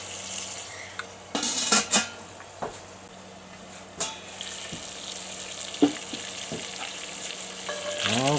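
Chicken pieces cook skin side down on a Cobb grill, a close, steady frying sizzle broken by several sharp clinks and scrapes of utensils against the pan.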